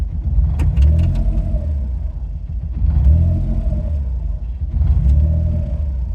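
Autozam AZ-1 with a Keisport ECU idling unevenly, its engine rumble swelling and sagging in slow waves like a pendulum, close and loud, with a few light clicks and no talk.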